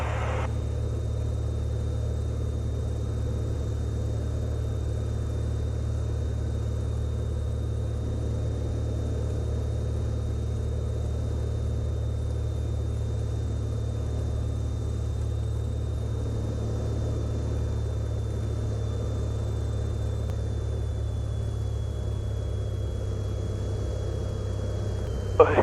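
A small airplane's engine throttled back on landing approach, heard from inside the cabin as a steady, even low drone with a faint high whine, unchanging throughout.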